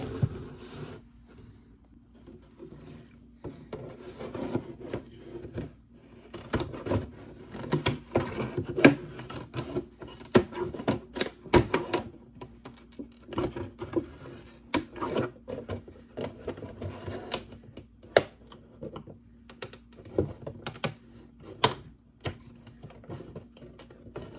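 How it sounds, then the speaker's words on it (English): Plastic containers being cut open for winter sowing, a close series of irregular crunchy snips and scraping rasps with pauses between cuts, fairly quiet and without talking. "Now the next part's going to be to cut them 3/4 of the way around."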